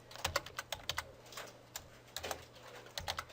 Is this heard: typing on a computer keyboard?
yes